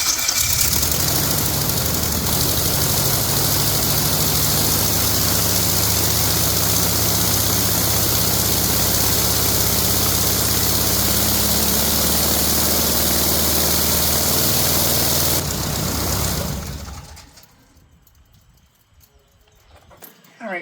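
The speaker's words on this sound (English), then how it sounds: "I'm going to use that and run the engine up to static RPM and see what it has to say" A light aircraft engine with a newly installed propeller runs up to static RPM for prop balancing, a loud, steady droning roar that holds for about fifteen seconds, then cuts out and winds down to near quiet.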